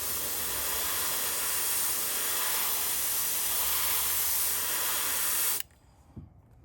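Airbrush hisses steadily as it sprays paint through a stencil onto a topwater fishing lure, then cuts off abruptly, leaving near silence.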